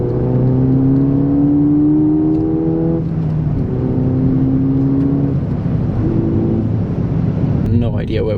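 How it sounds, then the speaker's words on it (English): Ford Fiesta ST pulling hard after a downshift on a long straight road, engine note rising steadily through the revs, loud and close with a brief shift break, then climbing again with road rumble underneath. "Downshift and so open it up a bit."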